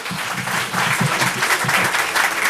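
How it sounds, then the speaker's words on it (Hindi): Loud audience applause fills a hall at an entrepreneurship development programme event, dense clapping swelling and continuing steadily through the short stretch, close and full. "पहले तो नम्रता के लिए तालियां बजा दो जोर से।"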